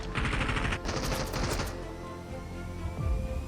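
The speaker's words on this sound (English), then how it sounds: "I shot up a fence." Gunfire at a fence in Fortnite, with a quick run of sharp shots and impacts early on, then fading into a softer, busier game background.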